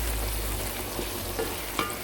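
Tomatoes added to onion and garlic already frying in oil give a soft, steady sizzle with a few light clinks of stirring over about two seconds, with no speech.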